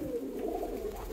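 Pigeons coo softly inside a loft, where each nesting box is lined with cut jute sacking and clay pots hold eggs. The low, murmuring calls run steadily and close through the whole short stretch.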